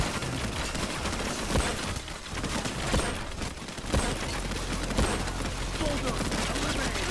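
A minigun-wielding bulldozer enemy in the video game Payday 2 firing its minigun, a dense, continuous roar of rapid gunfire that lasts throughout with little letup.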